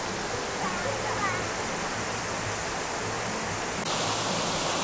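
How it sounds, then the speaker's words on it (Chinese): Dexing Waterfall in Lugu, Nantou roars as a steady, dense broadband rush of falling water, loud and continuous from start to finish, with a voice speaking briefly over it. "德兴瀑布原来是在这里呀！"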